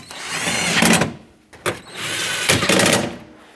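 A power tool drives and snugs the bolts on a mirror bracket of a 2007-2014 Chevrolet Silverado 2500HD, giving three close, loud bursts of whirring and rattling with brief pauses between them.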